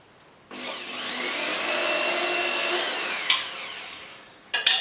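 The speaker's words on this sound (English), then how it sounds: "I'm going to drill a hole in my house." A power drill whines steadily for about three seconds, close and loud, drilling a hole through a house wall, then winds down with a couple of clunks at the end.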